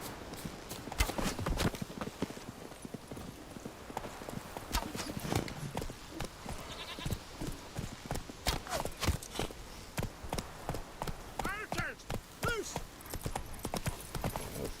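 A horse's hooves clop in a fast, rhythmic run in The Witcher 3, close and continuous with a brief whinny. Someone talks over the hoofbeats.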